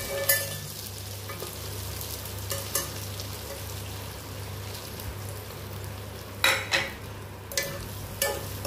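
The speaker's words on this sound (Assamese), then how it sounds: "কেৰাহীখন মই আকৌ উঠাই দিলো। সবজিখিনি মই লৰাই দিছো" A spatula stirs okra and potatoes frying in a wok, with a steady sizzle underneath and several sharp scraping clinks against the metal pan at irregular intervals.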